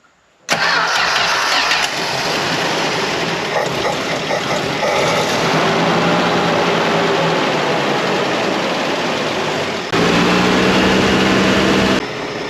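A Dodge Dart engine cranks and catches, then runs loud and close on its own, sounding rough as if misfiring on one cylinder, with a slight change in tone near the end.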